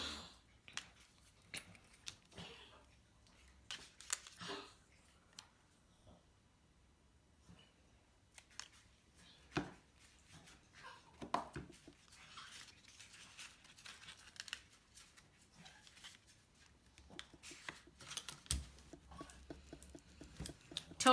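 Paper is trimmed with scissors for a DIY pocket traveler's notebook folder, a scattered run of soft close snips and rustles with pauses between, quiet and without talk.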